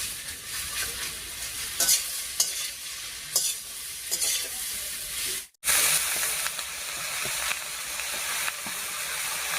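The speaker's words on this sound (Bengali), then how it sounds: "ডালের বড়ি আর নারকেল কোড়াটা বেশ সুন্দর ভাজা হয়ে গেছে, এবারে কেটে রাখা লাউটা দেবো।" Lentil dumplings and grated coconut sizzling in a pan for a vegetarian bottle gourd dish, with a steady hiss broken by stirring scrapes and a brief gap before the frying resumes, close and loud.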